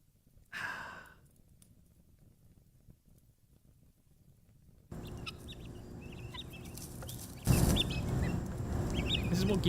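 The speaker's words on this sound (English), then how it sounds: "This is what guinea fowl sound like." Guinea fowl calling: a brief breathy squawk early on, then after a pause a dense, harsh chatter of flock calls that swells louder toward the end.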